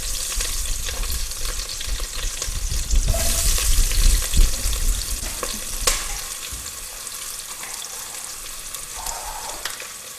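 Split chilies and onion frying in hot oil, a steady loud sizzle and crackle with spatters, stirred partway through, close up with no talking.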